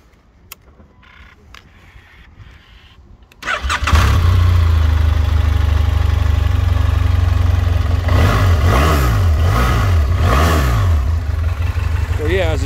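A 2009 BMW F800 ST motorcycle with a V-twin engine cranks briefly and fires up, settling into a loud close idle and then revving up three times in quick swells before dropping back.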